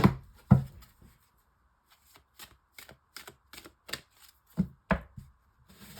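Golden Lenormand cards shuffled and laid out one by one for a six-card spread, a few crisp riffles followed by sparse, quiet taps and flicks spaced irregularly against near silence.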